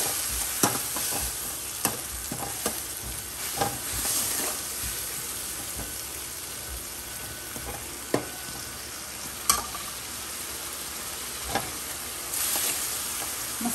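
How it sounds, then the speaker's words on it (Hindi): Masala frying on a high flame with golden brown onions, a continuous loud sizzle broken by regular scraping stirs and clanks of a spoon against the pan. "अब डाल लेंगे इसमें जो हमने मसाला तैयार किया है वो। पहले थोड़ा सा मसाला पका लेंगे"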